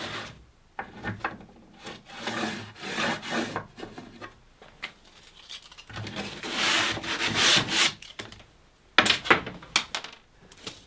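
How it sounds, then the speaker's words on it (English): A handsaw cuts slots into a wooden piece with close, rasping back-and-forth strokes in uneven bursts, then abrasive sanding rubs over the wood in scratchy passes, with short pauses between. "I'm finishing the slots off with a handsaw, and then some abrasive, before checking that the bolts run freely"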